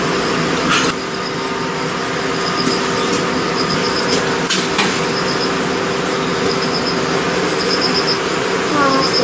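Honeybees buzz steadily around a beehive during beekeeping work, where eggs are being laid in the upper box, a dense continuous insect drone close by with faint voices talking underneath.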